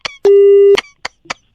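A telephone busy tone sounds after a call is hung up during a radio prank call: one steady half-second beep framed by short clicks and brief tone bursts.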